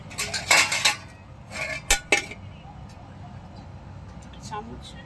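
Cooked fish being served with a spoon, with a few clustered clinks of metal against dishes, bright and close, followed by quieter scattered taps. A voice talks softly underneath.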